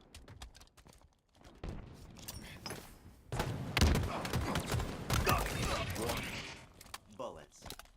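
Rapid gunfire bursts crackle from a fast 2v2 shooter video game, dense volleys of shots over a few seconds, with a voice talking over them.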